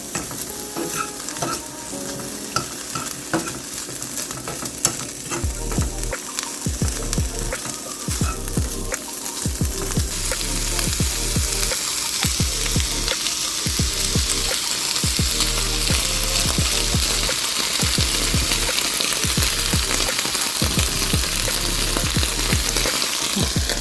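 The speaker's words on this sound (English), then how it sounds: "that's all chopped up and ready to go into the pan with the barbecue sauce" Chopped pork goes into a pan with barbecue sauce and fries loudly, a dense crackling sizzle that swells and holds steady, with repeated spatula scrapes and stirring knocks close by, no voices.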